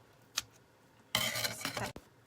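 A single click, then a brief crunching cut as heavy-duty scissors bite through flower wreath material, followed by a sharp snap, close and fairly quiet.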